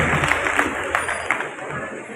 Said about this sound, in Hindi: एक बार जोरदार इनके लिए तालियां बजाएं।